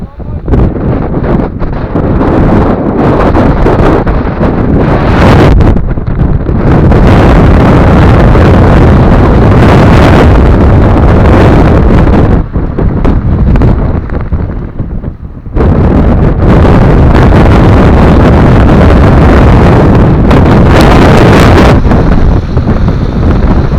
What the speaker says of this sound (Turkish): Fırtına çıktı fırtına.